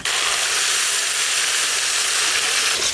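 Garlic sizzling in hot oil in a wok, a loud, continuous hiss that fills the stretch evenly, close by and with no voices over it.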